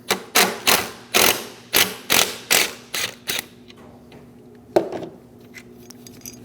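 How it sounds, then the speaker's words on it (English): A 10mm socket ratchet loosens a bracket bolt on the intake of a 2011-2018 Ram 1500 5.7L V8, giving about nine sharp, evenly spaced clicks up close, then a pause and one last click. "Using a 10mm socket, remove the bolt for the bracket."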